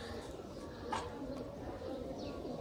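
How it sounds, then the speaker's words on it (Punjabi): A Sialkoti rooftop pigeon crossed with a teddy pigeon coos softly in a brief, faint call over steady background noise. "ਸਿਆਲਕੋਟੀ ਕਬੂਤਰ ਇਹ ਛੱਤ ਵਾਲਾ ਤੇ ਟੈਡੀ ਨਾਲ ਕਰਾਸ ਹੈ।"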